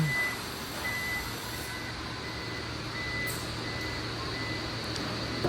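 A Toyota Yaris Cross 1.5 S HEV power tailgate closes with a steady series of faint, evenly spaced electronic warning beeps over low motor hum, heard fairly close and alone.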